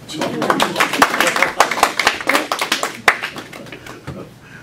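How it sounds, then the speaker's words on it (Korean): Scattered clapping from a church audience for a pastor's wife, individual sharp claps rising and falling near the microphone with voices talking over them. "박수 좀 쳐주세요."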